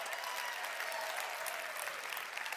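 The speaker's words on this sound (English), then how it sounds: "Give yourselves a round of applause." Sustained audience applause fills a large venue at a motivational business event, a dense, steady wash of clapping with no voices over it.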